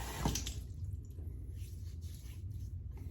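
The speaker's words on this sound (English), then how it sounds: "Have to rinse some of that soap out of it." Running water from a tap rinses soap out of an Edwin Jagger 3one6 razor, a steady close splashing hiss with a brief louder gush near the start.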